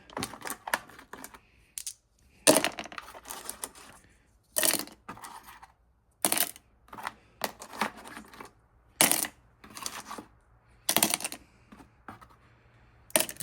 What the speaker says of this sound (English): we're going to start throwing these back in the barrel for the polish